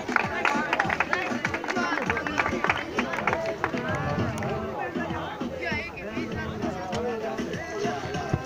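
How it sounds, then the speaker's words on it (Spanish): An audience at a municipal padel school championship gives a round of applause for the young champions, a sustained burst of clapping mixed with crowd chatter and voices in the hall. "Un fuerte aplauso para ellos."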